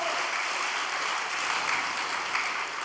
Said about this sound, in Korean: 우리 포항교회를 위해서 격려의 박수 한번 보내주시기 바랍니다.